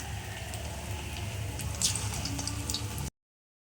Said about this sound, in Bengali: দেখো পকোড়াটা একটু ভাজা হবে ভাজা হলে তুলে নেব